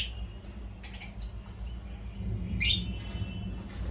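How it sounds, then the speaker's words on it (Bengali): Lovebird chicks in a colony give a few short, high chirps in quick bursts, close by over a faint low background hum, with no talking. "এখন তোমাদেরকে দেখাবো লাভবার্ডের বাচ্চাগুলো"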